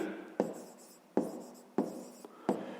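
Pen strokes scratch across paper while a number is written for a fifth-grade math exercise: four crisp, evenly spaced strokes, each a sharp onset fading into a soft scrape, close and clear.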